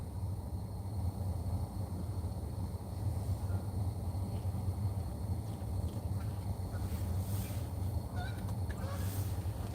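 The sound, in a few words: geese honking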